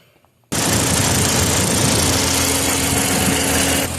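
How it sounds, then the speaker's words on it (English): Radiator cooling fans on a 2010 Lincoln MKS kick on after a brief quiet moment, a loud, steady whooshing roar with a faint tonal whine that runs unbroken for several seconds, then eases slightly near the end. "fans are blowing hot air"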